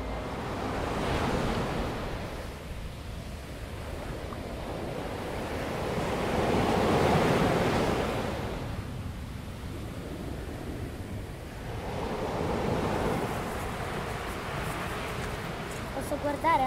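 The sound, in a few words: sea waves on the shore, Sardinia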